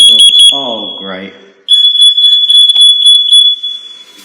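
A FireAngel Wi-Safe 2 fire and CO alarm sounds a loud, piercing, steady tone in close range, pulsing briefly at first, pausing while a person speaks, then resuming in a continuous shrill beep with faint chirps.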